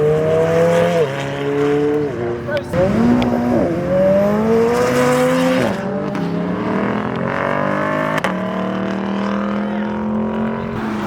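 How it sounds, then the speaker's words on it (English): A car fitted with a new, louder exhaust revs hard, its engine note climbing and dropping in repeated surges, loud and close, with brief sharp cracks between the pulls. "Bro came back with a new exhaust. It sounds louder."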